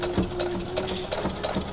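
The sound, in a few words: sewing machine stitching fabric bunting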